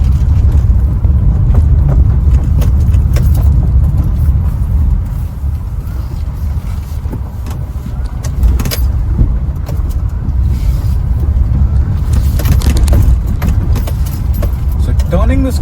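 A Maruti Suzuki Baleno premium hatchback drives over broken city roads. A steady low cabin rumble runs throughout, with loose rattles and bumps from the rough surface and a voice talking over it.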